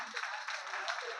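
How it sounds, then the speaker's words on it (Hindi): An audience at a community foundation-day function claps to welcome a guest, a dense, even burst of applause heard at moderate distance with faint voices underneath. "उसके लिए इनको एक बार जोरदार तालियों से स्वागत किया जाए"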